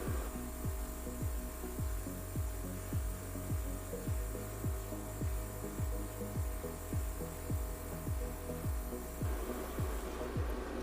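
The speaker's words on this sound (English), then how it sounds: "once the compressor pressure has reached that of the bottle, we can open up the bottle's valve and start filling the bottle" A high-pressure dive air compressor runs steadily while filling a scuba bottle, giving a loud mechanical hum with a regular throbbing pulse of piston strokes, roughly two per second, continuing alone with no voices.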